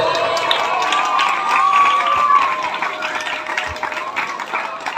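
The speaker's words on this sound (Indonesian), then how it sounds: "Tepuk tangan untuk semuanya." An audience claps at an outdoor Maulid Nabi religious gathering on a stage, a moderate wash of applause mixed with crowd noise, children's voices and shouts, with some tonal sounds running through.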